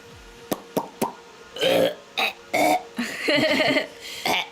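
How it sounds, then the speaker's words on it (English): A short series of burp sounds, several brief bursts followed by longer croaking ones, loud and close, with a few sharp clicks at the start and no clear speech. "And then we'll burp ya, because we have not done a burp yet."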